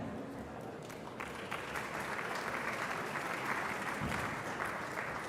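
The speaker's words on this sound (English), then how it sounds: "you can applaud one more time." An audience at an energy conference applauds, a steady wash of many hands clapping at moderate distance, swelling slightly after the first second and continuing to the end.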